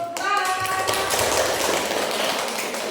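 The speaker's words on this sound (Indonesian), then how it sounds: "tepuk tangan untuk" A classroom of seventh-grade students claps together, a dense patter of applause rising quickly after some brief tonal sound at the start and continuing steadily throughout.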